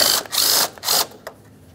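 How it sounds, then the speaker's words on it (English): A hand ratchet works a 10mm-headed headlight bracket bolt on a 2011-2021 Jeep Grand Cherokee, three quick bursts of close clicking followed by a short final click. "Now we can remove the 10mm headed bolt up here."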